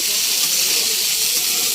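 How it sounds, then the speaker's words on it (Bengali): Goat meat pieces sizzling in a pan, a steady broadband hiss of hot oil frying throughout, close and continuous, with a voice talking faintly underneath. "এখন এগুলা ভাজতেছি"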